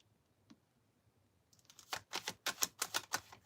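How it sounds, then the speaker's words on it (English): Tarot cards being shuffled: a faint tap, a pause, then a rapid series of crisp riffling clicks and flutters, close and fairly loud, with no talking. "I don't even know why I'm shuffling the cards no more"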